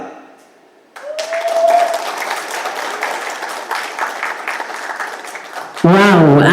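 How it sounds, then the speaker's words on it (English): Applause and clapping from an audience after a young boy's performance at an event, a steady crowd clap lasting several seconds before a sudden loud burst of music or voice at the end. "Round of applause for the young boy here, Mr. Naresh's son"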